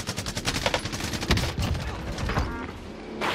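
Rapid automatic gunfire from an M4A1 rifle in Call of Duty Warzone, a fast stream of close, punchy shots that rattles on for most of the moment before tailing off, with one more shot at the end.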